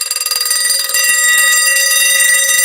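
A mechanical alarm clock rings nearby, starting with rapid stuttering strikes, then settling into a loud, continuous metallic bell clatter that fills the whole stretch.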